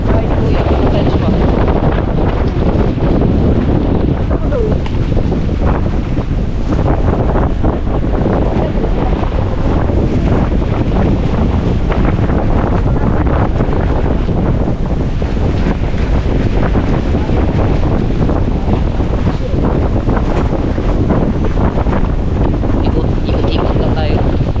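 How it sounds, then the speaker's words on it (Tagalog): Loud, relentless super typhoon wind roars and buffets the microphone in Batangas, Philippines, with a constant rushing wash of heavy rain and storm noise, unbroken throughout. "Malakas na naman yung hangin at saka ulan."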